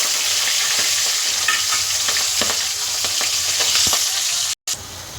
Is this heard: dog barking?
no